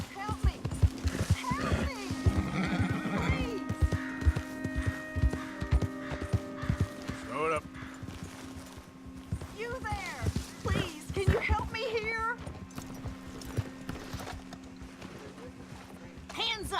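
Horse hooves clip-clop steadily in the open-world Western game Red Dead Redemption 2, with occasional snorts and tack sounds under a constant game soundtrack, while a person talks over it throughout.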